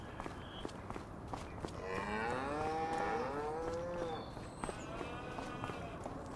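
A beef cattle moo in Farming Simulator 25 rises for about two seconds in the middle, drawn out and fairly close, with faint ambient ticks and footsteps around it.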